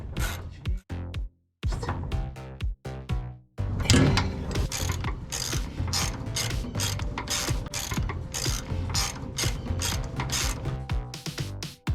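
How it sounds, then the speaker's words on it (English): Ratchet wrench clicking as it tightens a 9/16 nut and bolt holding a ground wire to the fuel tank of a Workhorse chassis, with rapid close ratcheting bursts separated by short pauses and steady loud clicking through most of the span. "the ground wire is bolted back on to the tank with the 9/16 nut and bolt"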